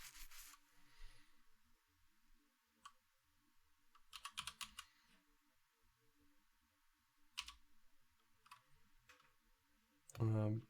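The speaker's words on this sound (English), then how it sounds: "I'm still just typing the code" Code being typed on a computer keyboard: scattered bursts of quick key clicks, some clustered into fast runs, close and fairly quiet, with pauses between, followed by a louder thump near the end.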